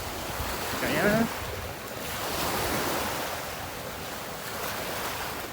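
Ocean waves wash ashore at Kingston Beach in Georgetown, Guyana, a soft continuous surf that swells and ebbs under sea breeze, with a brief voice early on.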